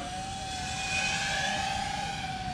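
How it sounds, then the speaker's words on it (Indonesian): An FPV drone flies over water with a loud, steady high-pitched motor whine that holds a sustained tone and slight wavering pitch throughout, with no talk. "udah lama saya nggak main drone kayak gini nih"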